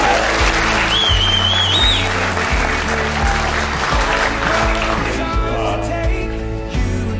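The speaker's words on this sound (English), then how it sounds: "I think we can have a cheer for that." Wedding guests cheer and applaud the newlyweds after the vows, a loud sustained burst of clapping with a whistle and whoops near the start, slowly thinning out.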